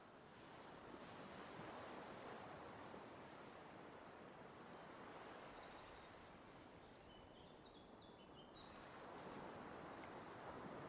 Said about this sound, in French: Entendez le murmure des vagues, le chant doux des oiseaux qui accueillent le jour naissant.